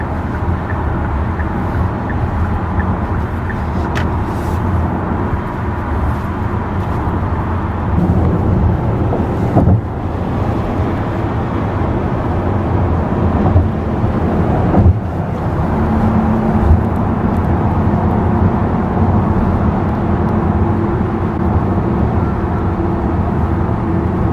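A Hyundai Palisade 3.8 cruises on a highway, giving a steady, loud interior drone of road and wind noise with a low engine hum. The drone holds constant and swells slightly in places, with no talk.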